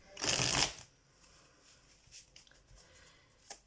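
Tarot cards are shuffled in one brief, crisp riffle near the start, followed by quieter handling taps and light card contact.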